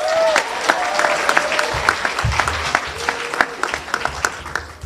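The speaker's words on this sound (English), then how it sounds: "So let's give another round of applause." Audience applause at a high school International Day morning session, a steady wash of clapping from a sizable crowd with sharp individual claps standing out, plus a faint cheer or whistle early on.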